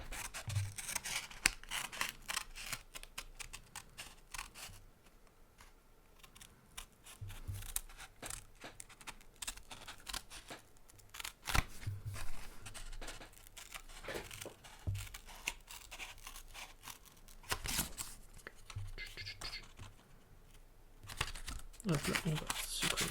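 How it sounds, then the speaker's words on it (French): Scissors cut out a paper circle at close range, with irregular snipping and rustling of paper in bursts separated by short pauses, mixed with handling noise and a voice talking intermittently. "prenez vos ciseaux, ici présents, et commencez à découper votre cercle"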